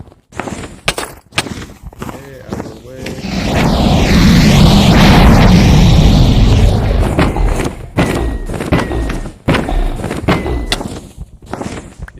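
A bed detonates in Minecraft during bed bombing. Sharp thuds open the scene, then a loud, sustained booming blast rumbles for several seconds before a run of abrupt impacts and cracks follows.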